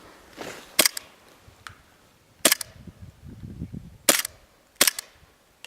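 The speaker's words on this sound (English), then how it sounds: "we're going to be shooting at those logs back there" A KWA USP Compact airsoft pistol fires at logs on an outdoor range, four sharp, close snapping shots spaced irregularly, with a faint rattle between them.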